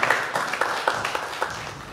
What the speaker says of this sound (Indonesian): kita berikan semangat tepuk tangan terlebih dahulu